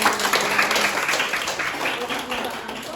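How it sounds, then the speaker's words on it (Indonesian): Students in a newborn-care training class applaud at a moderate level, with scattered claps spread through the room while voices talk over them. "Tepuk tangan dulu teman-teman."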